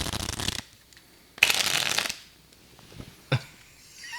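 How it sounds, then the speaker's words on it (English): Riffle shuffle of a deck of playing cards: two distinct bursts of crisp, rapid card flutter, close and fairly loud, separated by quiet, with a short tap or snap near the end. "you got to do a riffle shuffle"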